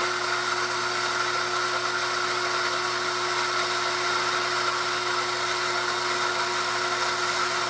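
Coffee grinder grinding beans very fine for a cortado, a steady, loud, high-pitched whirring buzz that runs without a break throughout.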